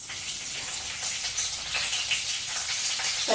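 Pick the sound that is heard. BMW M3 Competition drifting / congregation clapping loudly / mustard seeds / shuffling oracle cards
mustard seeds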